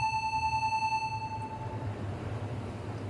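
A synthesized tone with an exponential release rings out: a bright chime-like pitch with overtones that fades gradually over about two seconds, over a low background rumble.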